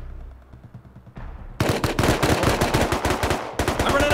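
Rapid automatic gunfire in the survival game Rust, long loud bursts of tightly spaced shots, close and dominant, starting after quieter muffled shots in the opening second.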